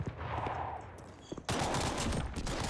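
Rapid bursts of gunfire from a Roblox video game during gun testing, sharp repeated shots in quick succession that get louder and denser toward the end.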